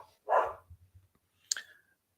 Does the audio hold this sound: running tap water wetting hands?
no